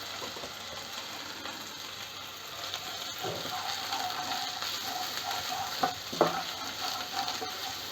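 Butter chicken masala with turmeric and ajwain is stirred in a frying pan over a lowered flame, a continuous close sizzle with clicking, scraping spoon strokes and a few sharper knocks toward the end.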